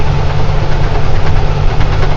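A truck engine running smoothly at steady revs, a loud, close, continuous low rumble with no pauses and no voices over it.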